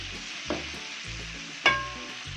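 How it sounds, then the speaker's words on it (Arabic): Sausage sizzles steadily in a frying pan, a continuous close hiss and spatter broken by a couple of sharp clinks as it is stirred. "هنزل بالسجق ما نقلبش كتير عشان ما يتهريش."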